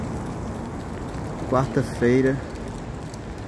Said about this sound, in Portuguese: Chuva, noite de chuva hoje.